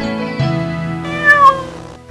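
A cartoon cat meows in a few drawn-out, tonal cries, close and clear, rising briefly in pitch before trailing off, with no talking over it.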